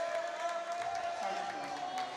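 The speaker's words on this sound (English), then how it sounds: "Crowd is getting very rowdy down there." Rowdy basketball crowd in a high school gym, a continuous din of cheering and clapping with a sustained whistle-like tone running through it.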